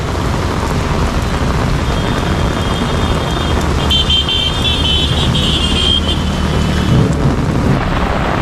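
A car pushes through a waterlogged street in a violent Mumbai–Thane rainstorm, its approach blending into a loud, steady roar of heavy rain and splashing water that fills the whole stretch, with a faint horn-like tone midway.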